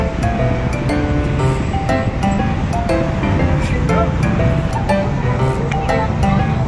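Ocean surf rolls onto the beach at Bagasbas in a steady, loud wash with brief bright splashes, and distant beachgoers can be heard in the background.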